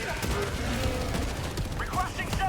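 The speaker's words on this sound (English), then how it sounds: "So throw some grenades here." Explosions and gunfire from grenades going off in the Helldivers 2 video game, a dense continuous battle din with repeated booms and crackling bursts, loud and close, with game voices mixed in.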